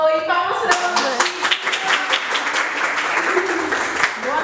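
A small group claps in a quick, uneven burst of overlapping handclaps that runs the whole time, loud and close, with voices chattering over it.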